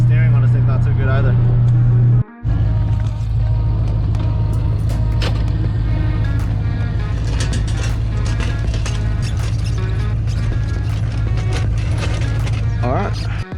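A manual car with flip-up headlights runs its engine loud and rough, a steady close drone that cuts out briefly near the start, then carries on under talking.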